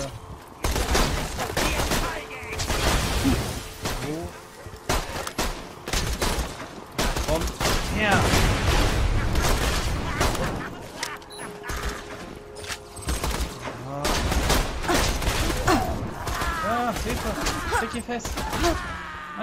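Weapons fire in the video game Borderlands 2 in rapid bursts and volleys, mixed with clanking mechanical reload sounds, while a person talks over much of it.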